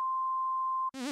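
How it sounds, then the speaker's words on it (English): A synthesizer oscillator plays a pure sine wave tone, one steady, clean, ringing pitch held for almost a second before it cuts off abruptly and a voice starts speaking. "A sine wave sounds sort of unnatural, kind of like a ringing in your ear."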